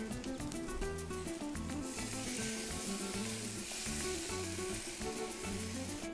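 Carne asada sizzles loudly and evenly in a hot pan after being flipped, a close continuous frying crackle that holds steady throughout, with no one speaking.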